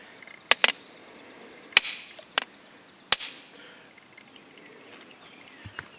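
A hammer strikes a mower shaft stuck in its housing in a few sharp metallic clanks, spaced irregularly with short ringing tails and quiet between them.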